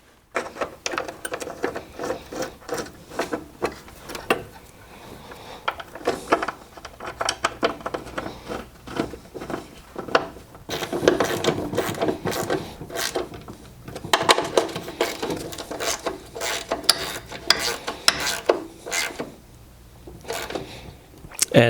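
A ratchet tightening bolts on a snowblower wheel bearing in a repair job on a Murray machine: quick, steady clicking runs in repeated spurts, close by and moderately loud, with a few short pauses between strokes.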